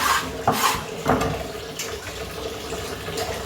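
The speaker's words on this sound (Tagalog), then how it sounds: "At hinugasan ko ng mainit na tubig yung aming kanin" Hot water runs and swishes over rice being washed in a pot or sink, with splashy bursts of rinsing and stirring near the start, then a steadier trickling wash, close up.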